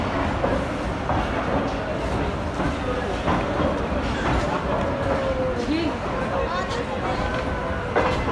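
The Millat Express pulls out of Sargodha Junction station with steady rolling clatter and rhythmic wheel clicks, heard from on board. A faint squeal rises over the rumble, and someone talks throughout.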